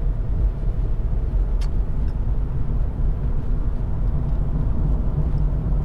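A Lexus IS 250 with the 2.5 engine while driving, a steady low engine and road rumble inside the cabin, constant in level, with a couple of faint ticks.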